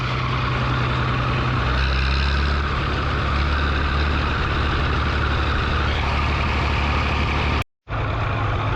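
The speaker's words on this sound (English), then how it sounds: "Because all the Land Rovers and trucks are on the same road as what we are." Land Rovers and trucks pass on a rural road near Glenisla in Scotland, a steady loud engine and tyre rumble with low droning tones, cut by a brief dropout near the end.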